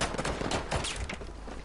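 Rapid bursts of close gunfire crackle in a dense, continuous volley in Battlefield V conquest gameplay, shots overlapping with no pauses and no talking.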